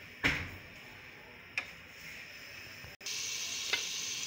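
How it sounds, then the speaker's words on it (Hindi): Masala for a red kidney bean curry sizzles in a pan, a low steady hiss broken by a few sharp clicks and taps of stirring. "इसको अच्छे से भूनेंगे हम लोग"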